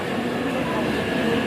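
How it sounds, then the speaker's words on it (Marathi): A Mumbai local train arriving at a station, a loud continuous rumbling roar with a steady hum of carriages, unbroken through the short clip. "आम्ही आता स्टेशनला येईल आहे आणि ट्रेन येईल"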